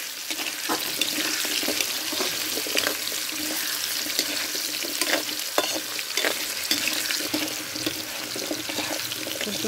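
Potatoes frying in a pan for chicken afritada, a dense continuous sizzle with scattered pops and stirring scrapes, close and steady throughout with no talk.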